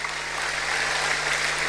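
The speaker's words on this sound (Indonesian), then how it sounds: "Yang setuju berikan tepuk tangan yang meriah." A church congregation gives a brief, full burst of applause, dense and steady, with a low steady hum beneath it.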